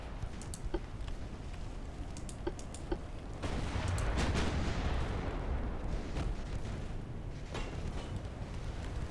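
Naval gunfire from warships in the game Ultimate Admiral Dreadnoughts, a steady roar of distant cannon booms and crackling shell impacts that swells for a few seconds in the middle, with no voice over it.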